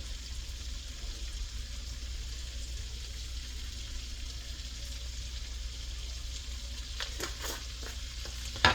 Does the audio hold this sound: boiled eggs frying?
yes